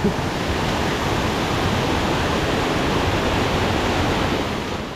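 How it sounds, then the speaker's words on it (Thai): Rushing water of the Krok I Dok waterfall in Saraburi, Thailand, roars in a steady, dense wash of noise, constant and loud from start to finish. "ว้าว เจอน้ำตกแล้ว"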